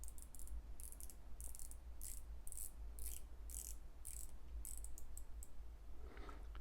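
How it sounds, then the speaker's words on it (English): Bezel of a classic Seiko dive watch turned by hand, giving a quiet, evenly spaced series of about a dozen faint clicks against a low background hum. "But take a listen to the click action bezel on this"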